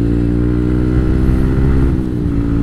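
A motorcycle engine hums loud and close during a solo ride on the Marilaque highway from Marikina to Infanta, Quezon, a steady throbbing drone with slight shifts in revs and no talking.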